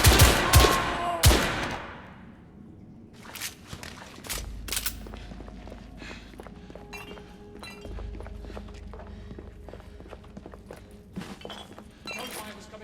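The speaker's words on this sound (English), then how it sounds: "Gunfire was coming from that tunnel." In The Order: 1886, loud gunshot cracks and clattering impacts ring out from a tunnel, then scattered echoing shots continue at a distance while voices speak.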